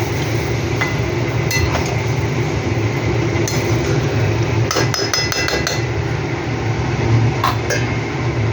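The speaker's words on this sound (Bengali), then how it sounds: "ভালো করে এটাকে নাড়বো চিকেনটা দেওয়ার পরে" Chicken being stirred in a pan for chicken kosha, a steady dense clatter of utensil scraping and knocking against the metal pan with sharp clinks throughout, loud and close with no talking.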